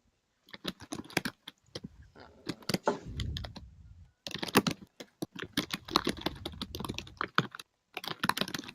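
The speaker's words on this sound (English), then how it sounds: "I can hear Amanda typing" Computer keyboard typing in bursts of rapid key clicks with brief pauses, fairly close and clear, with no talking over it.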